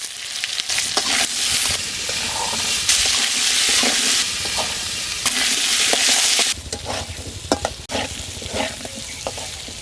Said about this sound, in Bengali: তেল গরম হয়ে গেছে, প্রথমে আলুটা ভেজে নেব।